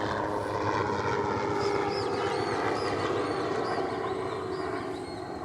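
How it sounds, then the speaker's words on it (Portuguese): A steady engine drone with a whirring aircraft rotor hum passes overhead, continuous and moderately distant, fading slightly at the end. "toda vez que eu ligo a câmera, aparece um helicóptero."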